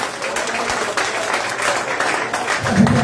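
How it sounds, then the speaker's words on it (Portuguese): A church congregation claps after a prayer, a steady wash of applause with some distinct sharp claps, and a low voice or hum rising near the end. "Quem crê nessa oração, dá uma salva de palmas para Jesus."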